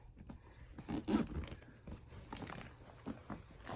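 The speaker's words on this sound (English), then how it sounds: "Zip it up." A zipper is pulled closed on a child's bug out bag, giving a few quick, faint rasping strokes mixed with soft fabric rustling and crinkling nearby.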